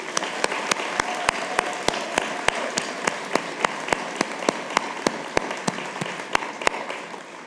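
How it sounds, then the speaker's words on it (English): An audience at a nursing awards evening applauds the nominees with steady, sustained clapping, accompanied by regular sharp percussive beats that pulse evenly through the applause. "Let's give them a round of applause."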